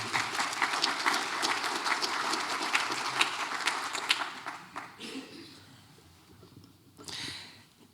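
An audience at a town transportation event applauds the first set of speakers, a dense wash of clapping that fills the first half and then thins out. A short final burst of claps follows.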